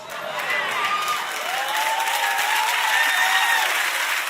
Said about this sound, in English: Kind of sketchy how much y'all clapped about that